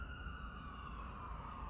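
Police or emergency vehicle siren wailing steadily and loudly, up close and continuous, with a slowly falling tone over a low rumble of traffic, no voices.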